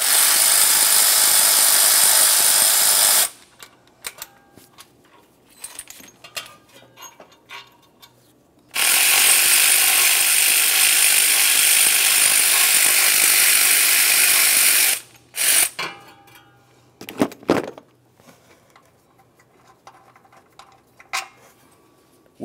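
A ratchet works on the 14 mm intake mounting bolts of a 1994-2002 Dodge Ram 2500, giving two long loud bursts of rapid clicking separated by quieter clanks and handling of tools, close up, with no speech.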